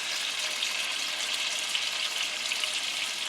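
Finely minced garlic and onions fry in a pan with a steady, dense hiss of sizzling that holds evenly throughout, close and moderately loud, with no talk.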